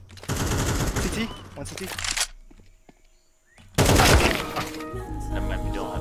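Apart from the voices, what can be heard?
gunfire in the video game Counter-Strike 2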